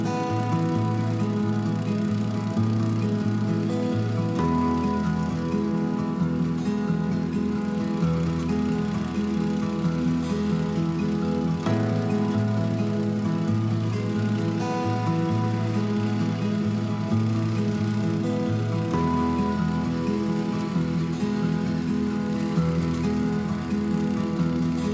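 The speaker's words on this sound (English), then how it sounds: "a leaf collector that works like a giant outdoor vacuum, sucking up leaves" A garden leaf vacuum collector sucking up leaves: a steady motorized engine drone runs continuously and loudly, with a low rumbling hum that shifts slightly in pitch now and then.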